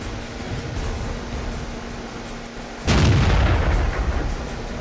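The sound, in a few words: tank cannon fire in World of Tanks video game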